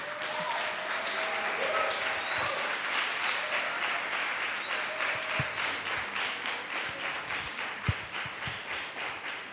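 A church congregation applauds after a sermon, sustained clapping across the whole stretch with a couple of faint whistles riding over it.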